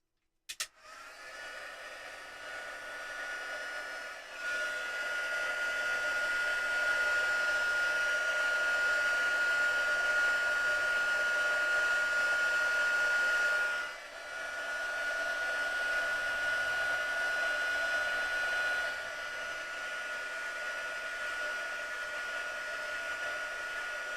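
A heat tool blows steadily on a crafting project, a loud continuous whirring roar that starts abruptly, dips briefly midway, then carries on at a slightly lower level with no talking.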